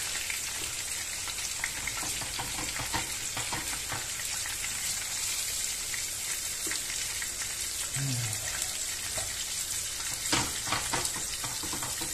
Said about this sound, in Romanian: Îl prăjim până se rumenește.